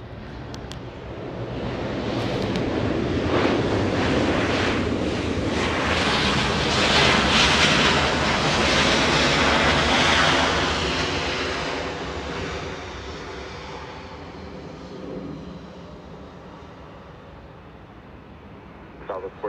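A Southwest airliner takes off from runway 24 left at Los Angeles International Airport, its engine roar building to a loud, broad rush that swells and slowly fades, with radio chatter faintly beneath.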